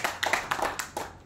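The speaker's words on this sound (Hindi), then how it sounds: "तालियां बजाओ।" Scattered hand clapping from a small audience at a gathering in a speech hall, a brief patter of claps, faint and a little distant, over roughly one second.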